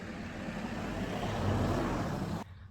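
A car passes on a road, its broadband rush swelling to a peak and then cutting off abruptly, fairly close, with no one talking.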